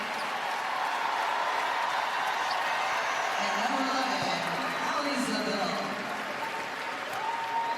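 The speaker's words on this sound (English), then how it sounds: "we're going to pause to hear this applause for Caroline Ducharme, who we were just mentioning, coming back into this game" Sustained crowd applause and cheering at a women's college basketball tournament game between St. John's and UConn, greeting Caroline Ducharme as she returns to play, steady and loud throughout with occasional whoops.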